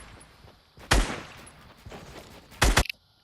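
Gunfire in the Fortnite video game: two loud bursts of shots, one near the start and another near the end, with quieter shooting and game noise between them.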